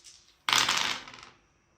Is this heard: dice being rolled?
yes